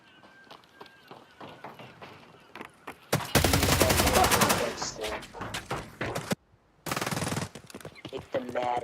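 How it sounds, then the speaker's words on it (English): Automatic gunfire rattles in a tense round of Escape From Tarkov: loud rapid bursts come in two main stretches, with a brief silent gap between them and scattered quieter shots and footsteps before and after. "They're so bad at me, they're shooting my corpse."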